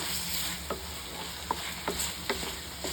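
Masala ingredients sauté in a pan for chicken kulambu, a soft, fairly quiet sizzle with a spatula scraping and tapping the pan every half second or so, and no talk.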